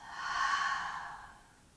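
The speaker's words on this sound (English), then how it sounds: "Deep breaths in and full deep breaths out." A single deep, slow exhalation during a yin yoga session, a close, soft breathy rush that swells and then fades away.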